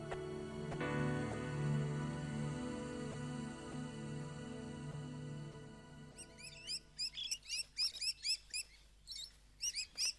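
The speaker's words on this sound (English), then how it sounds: "this is a Spix macaw, the rarest species of the most popular and most collected group of birds" A Spix macaw, a rare parrot, gives a series of sharp, repeated chirping calls in quick bursts, heard alone after a low hum fades out.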